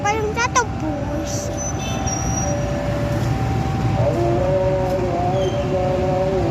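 A CC 204 diesel locomotive train passes close by with a continuous loud rumble and rolling wheel noise, thin squealing tones rising over it, while people talk nearby.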